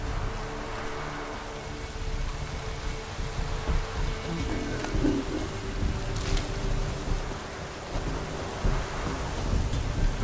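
Stormy weather in the video game The Witcher 3: Wild Hunt, where steady heavy rain hisses throughout while deep thunder rumbles and rolls in the background. The sound is loud and continuous, with no voices heard.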